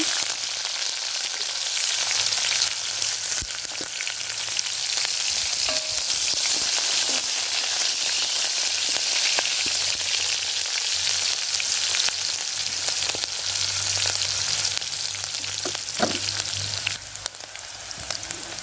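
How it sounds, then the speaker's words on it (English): Chopped onions fry in cooking oil in a saucepan over a fire, a loud, steady broadband sizzle that holds for the whole stretch with a few faint clinks and no talk. "Our saucepan is already on fire, so I'll go ahead and add cooking oil. And then I'll add in the onions."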